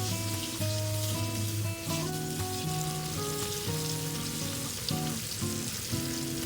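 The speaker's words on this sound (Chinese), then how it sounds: "均匀放入裹好淀粉的鱼块，中小火把鱼身一面炸至微微变黄，同样翻面也炸一下" Starch-coated catfish pieces fry in hot oil over medium-low heat, giving a steady, close sizzle alone throughout, with a strong tonal hum of music or background running beneath it.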